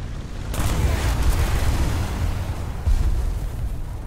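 A shot from a tank gun is fired at a Panther tank in a video game, a loud, heavy, rumbling blast that starts suddenly and rolls on, with a second boom near the end, and no voices.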